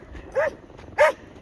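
A dog outdoors in a blizzard gives two short, sharp barks about half a second apart, close by, over a faint windy background.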